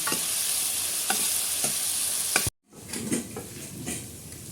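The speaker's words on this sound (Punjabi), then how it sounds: "ਹੁਣ ਆਪਾਂ ਇਹਨੂੰ ਚੰਗੀ ਤਰ੍ਹਾਂ ਜਿਵੇਂ ਨਾਰਮਲ ਮਸਾਲਾ ਭੁੰਨਦੇ ਆ ਨਾ ਆਪਾਂ ਇਦਾਂ ਭੁੰਨ ਲੈਣਾ ਇਹਨੂੰ" Masala roasts in mustard oil while a spoon stirs it. A continuous hiss comes with repeated scraping strokes, and after a brief dropout midway the sizzle returns, a little rougher and lower.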